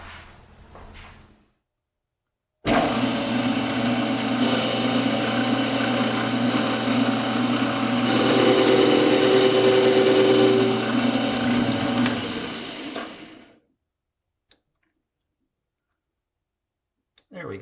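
A metal lathe takes a cut on a quick-change tool post stud with a tool bit, a steady whirring, grinding hum lasting about ten seconds, starting and stopping abruptly between stretches of near silence.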